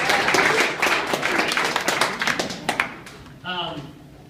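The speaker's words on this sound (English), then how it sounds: "Big round of applause for students." A crowd at an entrepreneurship anniversary event claps for students, a dense burst of applause that thins into a few last claps before a voice briefly starts speaking.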